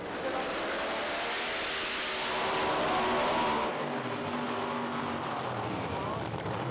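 Pro Mod drag racing cars on a qualifying run at a British Drag Racing Championship round make a loud, sustained engine roar that rises in pitch and then fades as they pass, with a commentator talking over the noise.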